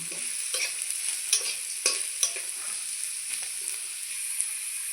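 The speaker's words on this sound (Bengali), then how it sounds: "পেঁয়াজ লঙ্কা ভালো করে ভেজে নিয়েছি একসঙ্গে মিশিয়ে দেবো আলুর সঙ্গে" Fried onions and green chilies stirred together with potatoes in a pan: a soft continuous sizzle broken by scraping spatula strokes and light clinks at irregular intervals, close up, with no talking.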